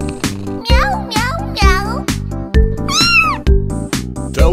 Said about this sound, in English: Tell me how the kitten says.